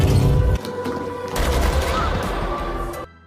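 A movie scene with a burst of gunfire: dense, loud shots and booms in two rapid volleys, then a sudden cut to near silence.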